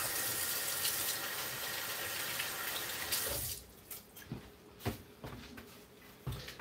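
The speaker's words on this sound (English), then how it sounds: "I'm trying to go wash my hands quick." A kitchen faucet runs in a steady, loud stream for about three seconds as hands are washed, then shuts off, leaving a few quieter splashes and clinks from the sink.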